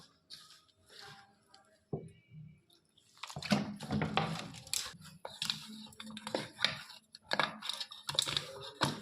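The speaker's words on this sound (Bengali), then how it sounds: "এবার আমি অল্প অল্প জল দিয়ে মেখে নেব।" Flour dough kneaded by hand with small splashes of water, a run of soft, irregular squelching and slapping sounds, close and quiet, coming in bursts with brief pauses.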